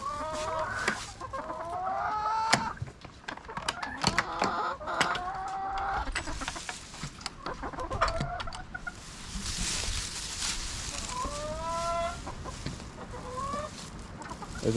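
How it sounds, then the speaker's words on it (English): Chickens, both bantams and standard hens, cluck steadily near and loud as they leave their coop on a spring morning, with a rooster crowing repeatedly among the busy flock and no talk. "So let's let those chickens out."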